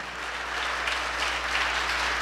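A church congregation claps for a new member, a brief burst of many hands applauding over a low steady hum, building slightly toward the end.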